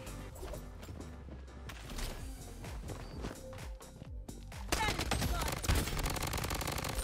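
Rapid bursts of automatic gunfire from the video game Blood Strike, dense and loud throughout, growing heavier and more intense in the final seconds.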